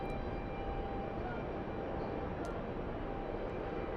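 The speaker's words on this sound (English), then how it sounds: "Swiss taxiing in front of us." A Swiss airliner taxiing at an airport gives off a steady, broad engine roar that holds even and unbroken throughout, heard from some distance with no voices.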